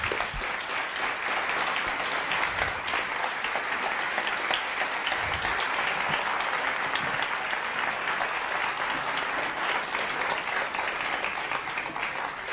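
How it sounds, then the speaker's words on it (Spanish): An audience applauds the French filmmaker Costa-Gavras at a creators' encounter event, a steady even wash of many hands clapping for the whole stretch, moderately loud with no voices over it. "quiero un fuerte aplauso para este cineasta francés"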